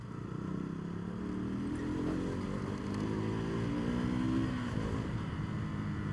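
A TVS Apache motorcycle riding on a city road gives a steady engine drone whose pitch rises as it accelerates, under continuous loud wind and road noise.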